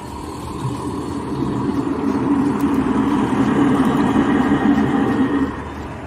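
A truck engine idles close by with a steady, low rumbling drone that holds even for several seconds and then eases off slightly near the end.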